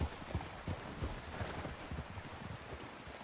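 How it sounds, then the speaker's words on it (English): A horse's hooves clip-clop in a steady trotting rhythm on the ground in the Western video game Red Dead Redemption 2, faint and fairly distant, with no talk over it. "Get a hold of that horse, Morgan."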